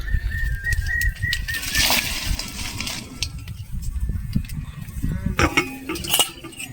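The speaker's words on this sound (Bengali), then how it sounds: "একটু ভালো করে নেড়ে চেড়ে দেবো।" A spoon stirs salted, washed tomatoes in a pan with repeated scraping and clinking strokes, mixed with bursts of rustling movement.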